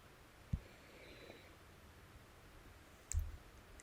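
A computer mouse gives two isolated sharp clicks about two and a half seconds apart, close and crisp against a quiet room with no talk.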